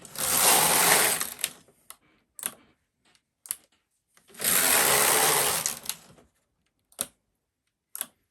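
A Knitmaster MK70 plastic flat-bed knitting machine knitting a pattern: two long whooshing carriage passes, each followed by several short clicks and clacks, loud and close.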